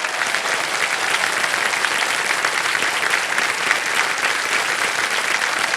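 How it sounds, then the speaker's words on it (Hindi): A studio audience on the game show Kaun Banega Crorepati claps continuously in loud, dense applause that lasts the whole stretch, with no talking over it. "तालियां बज जाए इनके लिए।"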